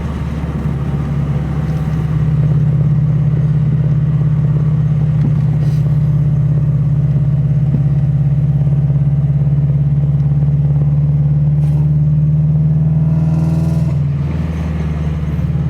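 A Subaru BRZ with a Spec D aftermarket exhaust holds a loud, steady engine drone at a constant idle-like pitch around 2,500 RPM, with a few brief pops and a slight change near the end.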